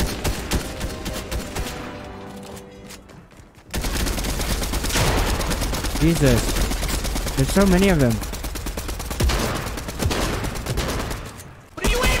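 Rapid bursts of automatic gunfire crackle through a Fortnite match, quiet at first, then loud and sustained with dense volleys, while players talk excitedly over the shooting.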